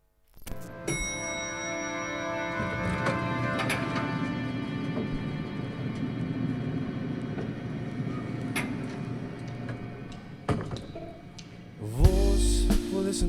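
A band performs a song, a full, steady wash of instruments running continuously for about eleven seconds, then a louder, brighter burst near the end.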